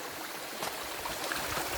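Water of the İbin Bey creek flowing around a walker wading through the streambed: a steady, broad rushing wash, fairly soft and continuous, with no voices over it.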